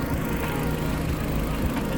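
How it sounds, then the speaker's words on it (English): A car engine running steadily with a low, even droning hum and a rough mechanical texture, continuous and close with no change in pace. "then listen to the engine."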